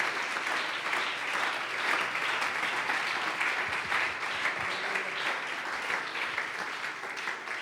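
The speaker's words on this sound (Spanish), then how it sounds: "Por favor, démele un aplauso a mi Dios en esta hora" A church congregation applauding during a worship service: sustained, even clapping from many people, fairly faint and steady throughout.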